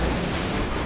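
Gunfire from an opponent during a GTA 5 car chase crackles as a dense, noisy burst, loud and close, lasting under a second with no talking.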